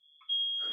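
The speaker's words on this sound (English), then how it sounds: "my girlfriend just set the smoke alarm" A smoke alarm shrieks, one piercing steady electronic tone that jumps louder partway through and carries on. It sounds close and is heard alone.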